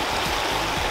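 A river flowing steadily, a continuous broadband rush of moving water filling the scene at an even level with no voices over it.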